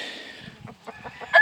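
Pair of white crested black chickens in a brood pen, giving a few soft, short clucks and murmurs with a brief louder call at the end, close by and fairly quiet.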